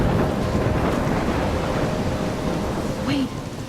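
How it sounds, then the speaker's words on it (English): Thunderstorm in the video game Life Is Strange: a dense, steady roar of rain and rumbling thunder, loud and continuous, with a brief tonal chirp near the end. "I'm trapped in a storm?"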